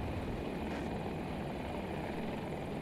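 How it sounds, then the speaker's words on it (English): Helicopter in Battlefield 2042, a heavy, constant rotor and engine roar sitting close and loud, steady throughout without any talking over it. "Oh shit, there's a chopper on me?"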